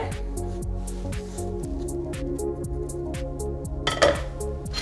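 Cucumber, chopped herbs and egg being mixed in a bowl, with repeated clinks and scrapes of a utensil against the bowl in an irregular rhythm, close and moderately loud, without speech.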